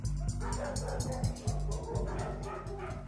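Dogs housed in dirty concrete sheds on a puppy farm yelp and whimper repeatedly under a steady low mechanical hum, the calls short, overlapping and moderately distant.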